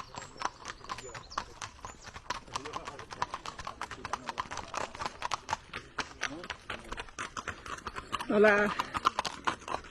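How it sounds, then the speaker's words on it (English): Horses' hooves clip-clop steadily at a walking pace as local riders pass along a pilgrim trail near Burgos, close and distinct, with brief speech and a greeting over the rhythmic hoofbeats. "They're coming a clip clapping."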